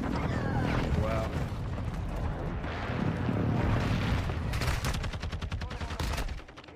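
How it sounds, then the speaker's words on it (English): Airstrike explosions and rapid gunfire in a Call of Duty ranked Hardpoint match, a dense, continuous barrage of booms and bursts lasting throughout, with players talking over the din. "Friendly airstrike on the way."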